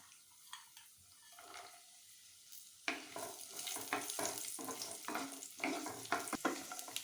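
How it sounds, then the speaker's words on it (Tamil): Cashews and raisins fry in ghee in a pan, a soft sizzle that turns busier and crackly midway, with occasional stirring scrapes, faint and close. "முந்திரி திராட்சை வறுபட்டுருச்சுங்க"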